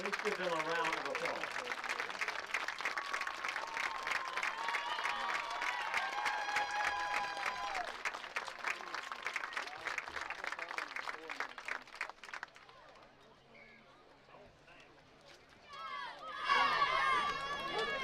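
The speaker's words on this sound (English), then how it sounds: "Let's give them a round of applause." Crowd at a school Tri-County championship football game between the WMS Wildcats and Loretto Mustangs clapping and cheering in a steady rolling wash of applause, fading to a quieter stretch before a voice rises near the end.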